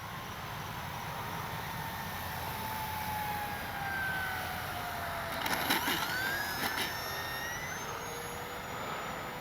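An FMS 1500mm Skylane RC plane flies a fast pass with no flaps, its electric motor a steady whine that rises and falls as it moves, with a few brief louder bursts midway and continuous outdoor background noise.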